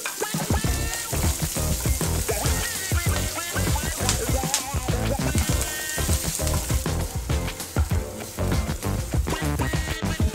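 Chopped onions sizzle and crackle loudly in hot oil in a pan, a dense, continuous frying hiss with scattered pops, made while cooking a spiced beaten-rice (aval) uppumavu snack.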